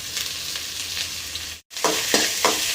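Chopped onion sautéing in hot oil with mustard seeds, dried red chilli and urad dal gives a steady close sizzle, with a few scraping stirs and a brief cut to silence partway through.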